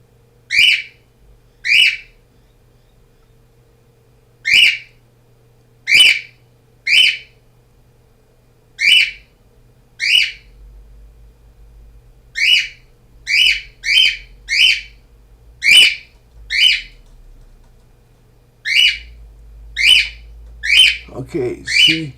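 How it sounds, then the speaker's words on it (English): A pet bird gives loud, sharp whistles and squawks in repeated bursts, about a dozen and a half calls spaced irregularly over a low room hum, growing more frequent toward the end. "Shut up, bird!"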